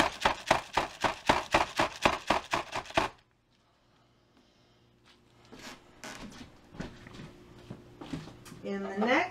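A soap mold filled with a French green clay layer is rapped repeatedly against a hard surface in a quick burst of about a dozen sharp knocks, followed by quieter handling sounds and a few scattered taps.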